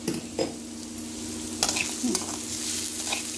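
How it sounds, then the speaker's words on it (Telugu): Tempering spices crackle and sizzle in hot oil in a pan, with a couple of metal clanks of a spoon against the rim. "చక్కగా వేగిపోయిందండి పోపు అంతా"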